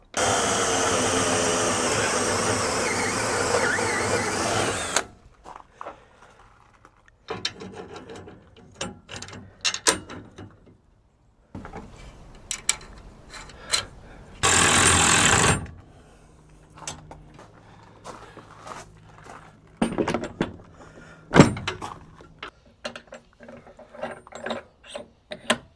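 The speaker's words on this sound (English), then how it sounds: "I think we can get by with only drilling one hole." Drilling a hole in a camper shell comes through as short bursts of a whirring drill, separated by pauses and clicks, moderately close.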